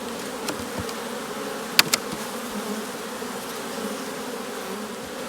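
A dense, steady hum of many honeybees buzzing close by around a hive frame, with a couple of faint clicks and taps in the background.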